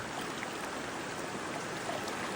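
A tall waterfall in Quezon Province pours beside a clear river, giving a steady, dense rushing hiss with no breaks or voices.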